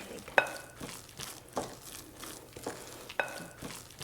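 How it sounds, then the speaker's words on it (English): Chickpea batter with baking soda being mixed in a bowl for gateau piment, a series of soft wet stirring sweeps with a few light clinks of the utensil against the bowl, close and fairly quiet, with no talking. "So now we're just going to mix it very well."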